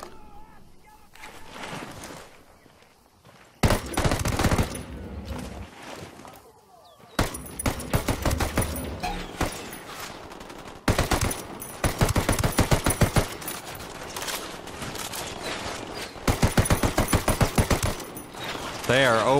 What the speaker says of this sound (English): They are opening fire on me